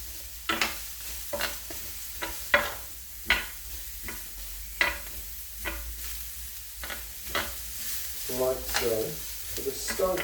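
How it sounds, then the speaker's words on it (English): Vegetables fry over high heat in a hot pan, stirred in repeated scraping strokes over a low sizzle, each stroke a distinct burst. "And I'm just going to allow these to cook down here. I'm going to stir them round for a couple of minutes."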